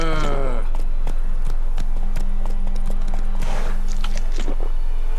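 Horse hooves clop steadily in a rhythmic trot while riding in The Witcher 3, close and clear over game ambience, with a brief whinny or voice at the start and someone talking intermittently.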